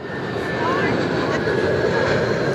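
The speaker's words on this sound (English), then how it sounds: "There we go. In from Bali. It's an airline that we haven't seen too much of here as Jetstar." A Jetstar airliner arriving from Bali at Perth Airport, its steady broadband engine roar loud and continuous throughout, with a faint whining tone on top and talk mixed underneath.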